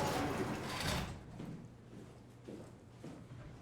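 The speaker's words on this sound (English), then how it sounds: "I'm closing this door." A door closing in the horror game SOMA: a broad sliding, grinding rush that fades after about a second, followed by a low steady hum and a few soft mechanical thuds.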